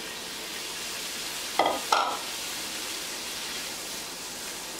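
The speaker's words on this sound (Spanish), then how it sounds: "aquí le vamos a agregar los mariscos" Seafood, including extra shrimp, drops into a sautéed seasoning base for a Peruvian picante de mariscos, giving two quick sizzling bursts over a faint steady frying hiss.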